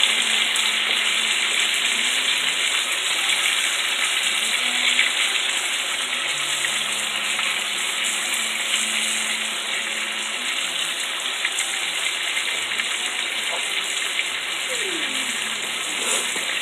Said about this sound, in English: Little butter right there. Add some onions. It's going to be like a saute.